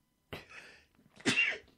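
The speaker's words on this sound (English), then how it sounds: "when that sneeze bug hits you, you just got to sneeze" A single close, sharp sneeze with a short breathy intake before it, otherwise quiet.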